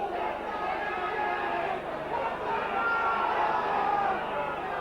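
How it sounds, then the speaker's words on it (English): Rugby league stadium crowd at a Hull v Widnes match roaring and calling out for offside, a broad, sustained murmur of many voices at a distance, with a commentator talking over it. "The crowd calling for offside."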